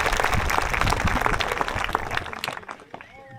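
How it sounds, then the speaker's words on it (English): A graduation audience applauds faculty and staff, a dense burst of clapping at moderate distance that tapers off near the end as a voice begins to speak. "Please join me in a round of applause for faculty and staff."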